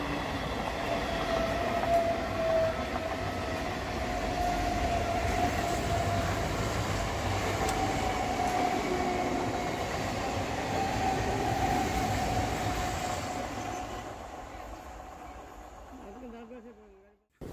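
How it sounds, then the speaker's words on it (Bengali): A Barui Para local train on the Howrah chord line rolls along with a steady low rumble and rail clatter. The noise stays loud and continuous, then drops away near the end, and talk is faintly present. "অবশেষে আমাদের ট্রেন ছাড়লো।"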